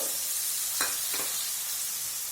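Carrot, potato, onion and beans stir-frying in a pan for instant fried rice; a steady hiss of sizzling with two brief stirring scrapes, close and fairly even, no speech.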